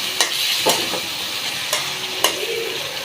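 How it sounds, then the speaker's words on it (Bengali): Tomatoes frying in a pan for a pangasius fish curry, a steady sizzle with a few sharp stirring scrapes of a spoon against the pan, close and fairly loud, no voices. "আমি টমেটোটা দিয়ে দিব, টমেটোটা কষিয়ে একটু নরম করে নিব।"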